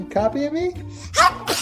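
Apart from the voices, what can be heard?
sneeze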